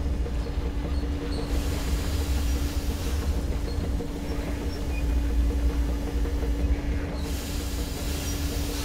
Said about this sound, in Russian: Включение поворотного круга.